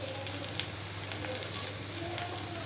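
Sliced okra (bendakaya) frying in a pan, a steady soft sizzle and crackle of oil running evenly throughout, close and continuous.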